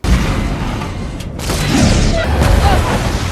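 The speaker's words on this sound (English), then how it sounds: "Why would that make the plane explode?" Plane explosion in the movie Rampage, a loud sustained boom and roaring blast with crackling debris that briefly dips then swells again, filling the whole clip.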